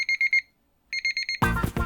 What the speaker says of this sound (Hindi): ये 6 बजे की जगह 9 बजे का अलार्म क्यों लगा दिया?